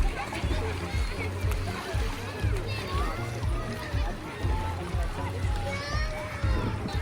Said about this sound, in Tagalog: And then, merong mga nagsiswimming dito.